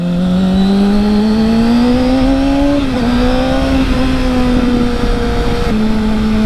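Motorcycle engine running steadily after a Schnitz Racing ECU flash, a loud continuous drone whose pitch rises gradually, dips, then settles again, with no popping heard as it eases off.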